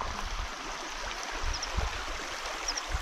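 A small stream flowing in Urho Kekkonen National Park, a steady soft rushing and trickling of water heard close by with no voices.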